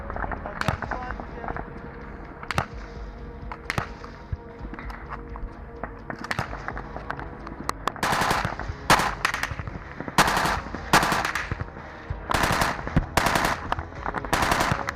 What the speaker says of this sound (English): The Russian soldiers on the other side were firing non-stop.